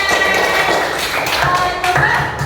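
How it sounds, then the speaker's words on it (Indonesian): A classroom of students claps together. The claps are quick, busy and close, with a few thumps mixed in over about two seconds. "tepuk tangan"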